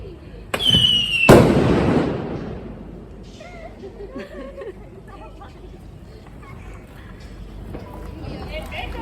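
Festival fireworks outdoors: a sharp whistling launch and a loud close bang, followed by fainter crackles and pops while a crowd chatters and moves in the background.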